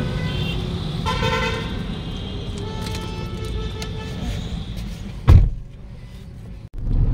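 Heavy city traffic on a congested road with a U-turn, car engines rumbling close by, a couple of short horn toots, a sharp thump near the end and a brief muffled voice.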